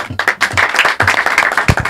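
An audience claps for apostle Jean Paul, a short burst of dense, close applause with uneven hand claps.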